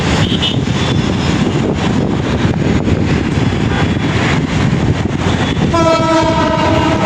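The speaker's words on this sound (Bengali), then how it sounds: "এবং সতর্কতার জন্য হরেন বাজাইতেছে যাতে মানুষ সরে যায়।" A train passes beneath the Moghbazar flyover: a loud, close roar of rolling wheels and engine fills the stretch, then the horn sounds near the end as a sustained, blaring tonal blast over the rumble.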